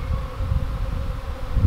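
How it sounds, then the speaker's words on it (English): A swarm of honey bees clustered on a tree gives off a dense, low, continuous buzzing, close and fairly loud. "It's pretty typical for bees to cluster up like that on a tree."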